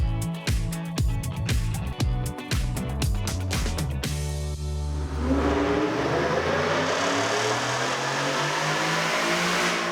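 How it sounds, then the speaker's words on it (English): A pickup truck on Atturo Trailblade XT 33x12.50 tires runs on a dyno: a few sharp rhythmic knocks, then a steady rising whir and engine roar that fills the rest. "We just wrapped up our second of 3 dyno runs here, now with the Atturo Trailblade XTs on the truck."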